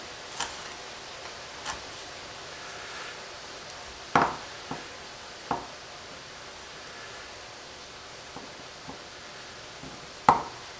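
Knife chopping habanero peppers on a board for chili, a handful of sharp, scattered cuts with long pauses between them over faint background noise.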